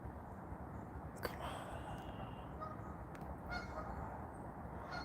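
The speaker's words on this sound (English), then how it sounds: "Not you, you stinking geese." Geese honking at a distance outdoors in the woods, a few faint calls over steady low background noise, with no talking.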